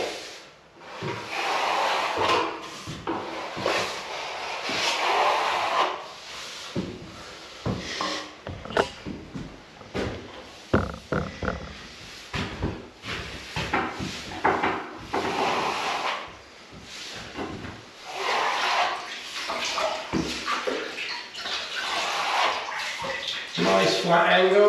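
A trowel scrapes and swishes across wet plaster in repeated strokes, close and steady, with occasional pauses and a voice talking at times.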